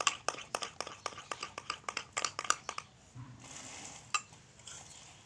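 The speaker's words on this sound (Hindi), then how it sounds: "अच्छे से फेंट लेंगे।" Whipped cream beaten in a small bowl, heard as a rapid run of close, sharp clinking strokes against the bowl that stop partway, leaving a quieter stretch with a soft knock.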